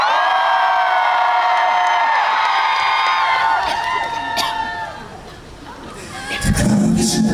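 A concert crowd at the K-ARTS DMZ Festa in Goseong shouts and cheers, with screams and whoops carrying over a large sustained roar that dips briefly then swells again.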